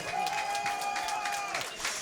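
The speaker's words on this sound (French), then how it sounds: "s'il vous plaît, applaudissez-les bien fort" An audience at an afterwork event applauds the staff teams, a dense wash of clapping from the crowd with a sustained whistle-like tone riding over it for most of the stretch.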